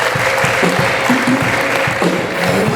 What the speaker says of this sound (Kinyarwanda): Komera Imana amashyi.